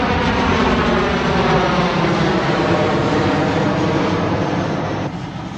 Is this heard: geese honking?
no